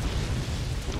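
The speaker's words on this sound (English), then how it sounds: "Like, until they started firing the rather explosive things at me, then everything went haywire." Explosions from weapons fired in the strategy game Forts during a 4v4 multiplayer match on the Wheels and Bearings map, a dense, continuous roar of booming blasts with heavy low rumble.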